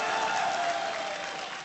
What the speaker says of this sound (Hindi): सबसे पहले मेरी मोना के लिए जोरदार ताली बजाओ।